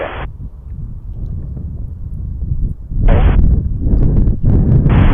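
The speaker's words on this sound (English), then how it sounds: "Ooh, those are gusts." Gusty wind buffets a microphone at Montréal-Trudeau International Airport, heavy low rumbling roars that surge and drop in bursts, loudest toward the end.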